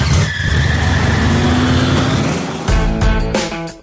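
A car accelerates hard with loud, sustained tire squeal and skidding close by, and the engine revs climb sharply near the end.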